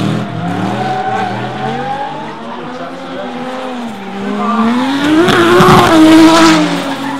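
Drift cars battling at a D1NZ Pro-AM round at Mt Smart, loud revving engines rising and falling in pitch, building toward a surge of screeching tire squeal and roaring throttle near the end.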